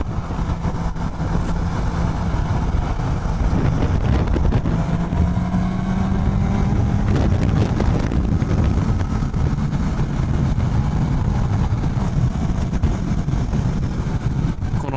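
A Suzuki GSX-S750 motorcycle engine drones steadily while riding, its pitch shifting as it revs and eases off, with constant wind and road noise throughout.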